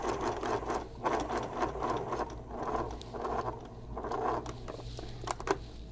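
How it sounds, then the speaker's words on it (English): A sewing machine runs steadily up close, stitching over a pen mark while sewing a messenger bag, with a continuous fast mechanical patter and a low motor hum beneath. "Once again, I sew over my pen mark."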